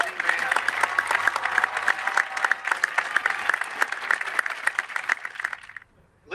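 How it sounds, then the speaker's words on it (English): Audience applause for marching band seniors at a fall band expo, with steady clapping from a large crowd that runs for several seconds and then tapers off quickly near the end. "let's give a round of applause to our seniors from the Titan Marching Band"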